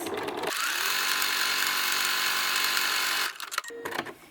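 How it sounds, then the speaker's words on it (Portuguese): A sewing machine runs a steady zigzag stitch joining pieces of batting, a loud continuous whir lasting about three seconds before stopping, followed by a few brief clicks and handling noises. "eu vou passar o zigue-zague, vou aumentar um pouquinho a largura do zigue-zague para unir essas mantas"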